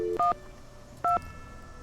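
Two short electronic phone-keypad tones from a telephone being dialed in the Nancy Drew video game Ghost Dogs of Moon Lake, clear and close, separated by about a second of quiet hum.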